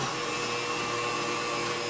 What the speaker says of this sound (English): You can hear the mixer change.